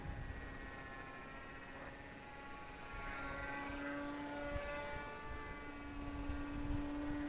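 Distant buzzing whine of the propeller on a Volantex Ranger G2 1200mm-wingspan RC glider, its tone rising and falling slightly as it passes overhead, faint and continuous.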